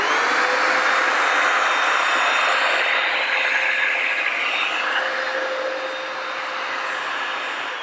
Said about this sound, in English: I can also turn on the vacuum and do both at the same time